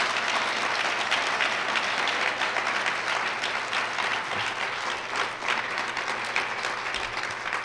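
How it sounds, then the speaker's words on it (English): Sustained applause from an audience at a heart-health hypertension event, a dense steady wash of clapping hands filling the room throughout, with no voices standing out. "Sure, give them a round of applause."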